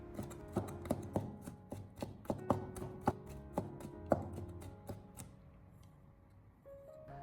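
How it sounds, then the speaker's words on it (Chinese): A kitchen knife smashes and then chops garlic cloves into mince on a cutting board, giving a run of sharp, uneven taps and thuds that slow and fade toward the end, with no talking. "下一步我们再准备几个大蒜，先用刀给它拍一下，之后再将它改刀切成蒜末"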